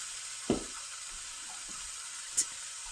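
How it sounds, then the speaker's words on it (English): Garlic powder, ginger, salt, black pepper and thyme sautéing for Jamaican curried goat, a steady soft sizzle with two brief clinks of a utensil against the pot. "And now I'm sauteing it."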